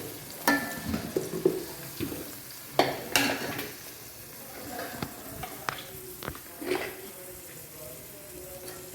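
A spoon stirring masala into kanava (squid) roast in a pan, with irregular scrapes and clinks against the metal over a soft sizzle, fairly close and moderately quiet.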